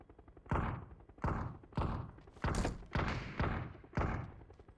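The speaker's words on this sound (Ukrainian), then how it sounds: "Вони по них стріляють, да?" Six or seven heavy booming shots go off at a steady rhythm, each a deep thud with a fading tail, like distant gunfire or explosions in a game.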